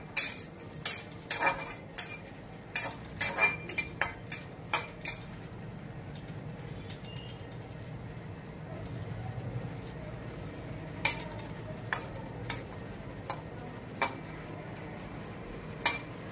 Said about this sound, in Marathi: हे थोडं तूप टाकून आपण ते सुकामेवा फ्राय करून घेऊया।